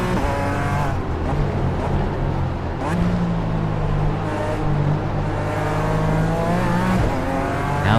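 A BMW race car in the iRacing simulator accelerates hard, its engine note rising and falling through gear changes in a loud, continuous drone with other cars close behind.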